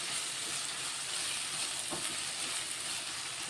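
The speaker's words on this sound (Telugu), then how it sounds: "ఈ ఉల్లిగడ్డలు కొంచెం ఆయిల్లో మంచిగా ఫ్రై అవ్వాలి." Onions frying in oil for a tomato and dried shrimp curry, an even, dense hissing sizzle that holds steady throughout, close and unbroken.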